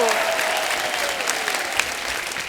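A studio audience at a comedy talk show gives loud, sustained applause, dense clapping filling the room with a few scattered cheers and voices mixed in.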